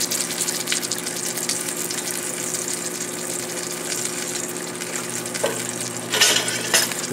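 Fish fillets fry in light olive oil with a steady, close crackling sizzle that stays dense throughout, swelling into a few louder spitting bursts near the end.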